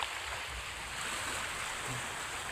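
Sea waves wash below a roadside cliff, with a mountain rising above the shore; a steady, fairly soft broadband surf rush with mild wind fills the whole stretch, and no one speaks.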